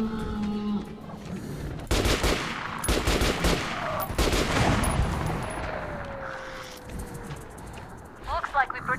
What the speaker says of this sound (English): Is that the sound of her bullet? Like, holy shit, that's loud.